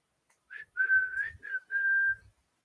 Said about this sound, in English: I gotta stop whistling.